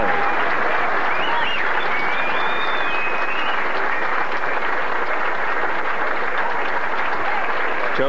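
Fans at Golden Pin Lanes in Tucson applaud the winner of a professional bowling final, a loud, sustained wash of clapping from a large crowd that holds steady from start to finish, with a commentator's voice faintly underneath.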